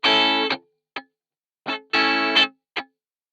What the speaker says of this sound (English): And so you already hear that kind of soca strumming pattern already coming through.